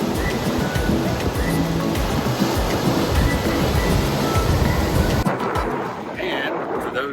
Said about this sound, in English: it's nice to hear the sounds of the waves